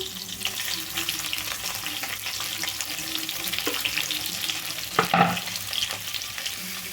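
Onion pieces, green chillies and curry leaves frying in hot oil for a hotel-style puri curry, a steady close sizzle with a brief stir or clatter of the pan midway, heard without talk.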